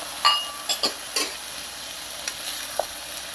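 Beef soup is poured into a pan of sizzling pepper steak, a few quick knocks and clinks of a utensil against the pan rising over a soft steady frying hiss.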